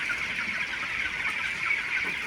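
Broiler chickens on a farm, about 22 days old, clucking and chirping steadily in a continuous flock chorus with no talk.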